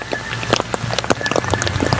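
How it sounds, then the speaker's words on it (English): Heavy rain falling outdoors at a township administrative building and park, a dense patter of close drops hitting surfaces in irregular bursts over a steady wet hiss. "A lot of rain."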